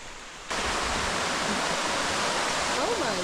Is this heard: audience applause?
no